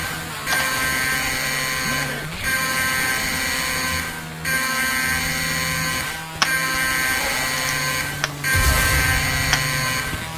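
A repeating electronic alarm tone cycles steadily in segments of about two seconds, loud and continuous over a buzzing, mechanical soundscape in the game DDay Normandy, with no voices.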